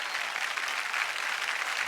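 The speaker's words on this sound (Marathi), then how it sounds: "एकदा जोरदार टाळ्या होऊन जाऊ दे, जोरदार टाळ्या." A studio audience at a Marathi women's celebration show bursts into loud, steady applause, with dense clapping holding evenly from start to finish.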